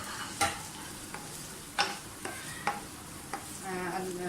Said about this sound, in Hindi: प्याज को अच्छी तरह से फ्राई कर लें।